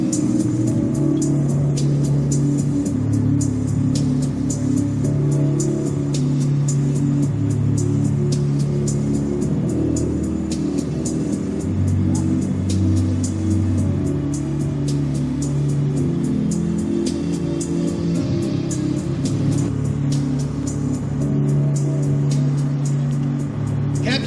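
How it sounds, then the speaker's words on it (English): A 600-horsepower Pratt & Whitney radial engine on a North American SNJ/T-6 Texan at an airshow roars continuously at steady loudness, a deep throbbing drone with shifting pitch and no break. "You're going to hear the roar of a 600 horsepower Pratt & Whitney engine."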